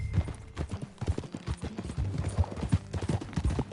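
Horse hooves clip-clop in a steady trotting rhythm in the video game Red Dead Redemption 2, close and moderately loud, with occasional faint background game sounds.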